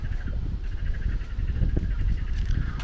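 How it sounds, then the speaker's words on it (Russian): Toads croaking loudly along a riverbank at Hydropark in Kyiv, a dense continuous chorus of pulsing calls with low rumbling wind-like noise underneath, no talking. "Вот здесь так громко-громко квакают жабы."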